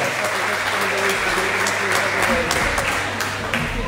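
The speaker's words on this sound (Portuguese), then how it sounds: "Um saldinho de palmas aqui para o Gonçalo" Applause from an audience at a local gathering in Luz de Tavira, a steady dense patter filling the whole stretch with voices mixed in underneath.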